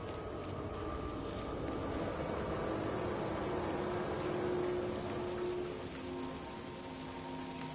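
Steady rain falls outside in a video game, a dense continuous hiss with a low rumble underneath, even and moderately quiet throughout with no voices.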